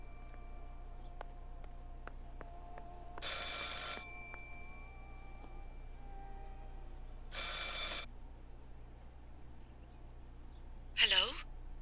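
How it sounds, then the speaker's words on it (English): Two long bursts of an old-style telephone bell ringing inside a quiet house in the horror game Martha Is Dead, spaced several seconds apart over a low hum, followed by a short gasping breath at the end. "I should pick up the phone but remain silent"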